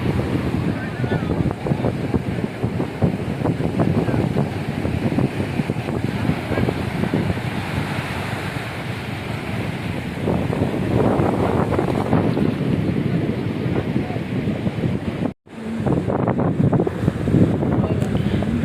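Strong wind buffets the microphone on Kuakata sea beach, with a constant roar of surf and waves behind it and a brief cut near the end.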